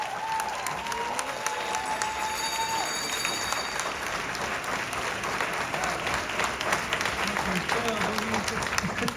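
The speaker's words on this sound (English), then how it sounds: "We want to give another round of applause for Congressman Meeks." An audience gives Congressman Gregory Meeks a steady round of dense applause at moderate distance, with voices in the crowd beneath it.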